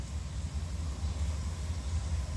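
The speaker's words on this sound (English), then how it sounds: "Looks like a manifest train." A manifest freight train rumbles steadily in the distance, a continuous low roar of rolling cars approaching along the track near Abbeville, with no voices.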